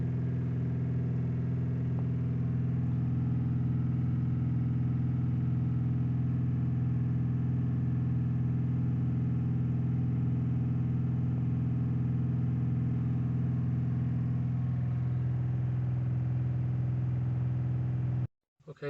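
A 2015 Audi A6 diesel with a fully blocked DPF after sitting abandoned for three years, engine held at steady raised revs, a constant loud droning hum that barely changes, then cuts off abruptly at the end.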